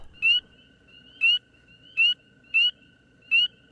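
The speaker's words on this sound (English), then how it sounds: "the sounds of frogs permeated the airwaves once more" Spring peepers and other frogs call outdoors in a backyard wildlife area, with sharp, high, evenly spaced peeps repeating about every second over a faint steady chorus.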